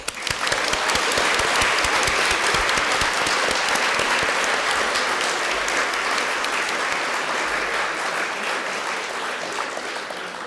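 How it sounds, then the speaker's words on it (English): A large audience applauds loudly and continuously at a primary school graduation, a dense wash of clapping that holds steady and fades slightly toward the end. "give a big hand of applause to the whole primary staff"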